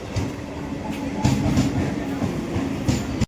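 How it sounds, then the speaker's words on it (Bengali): A crowded Sealdah-bound passenger train pulls into Berhampore station on the down line, with a steady, loud rumble and clatter of wheels and carriages continuing throughout. "বন্ধুরা আমাদের ট্রেন ঢুকে গেছে"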